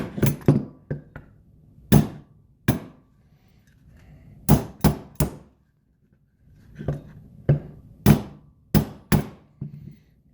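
A hammer striking the bayonet lug on a rifle barrel during an Aero Precision Atlas rail install, sharp metallic blows in irregular clusters of two or three, close and loud with quiet gaps between.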